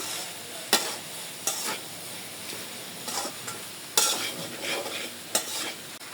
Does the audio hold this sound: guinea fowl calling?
no